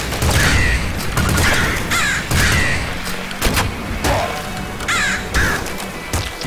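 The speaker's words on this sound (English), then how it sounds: "Stop, birds." Loud, close cawing of crows in the video game Nuclear Throne, repeated harsh calls every second or so over thumping game noise, with no talk.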